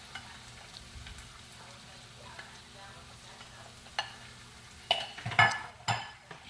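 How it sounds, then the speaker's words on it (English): Already-cooked beans are tipped into a pot for a beans and sweet corn adalu and stirred gently: soft, quiet scraping and faint sizzle at first, then a few louder clattering knocks and stirring scrapes toward the end, with no voices. "Add all the beans and stirring gently"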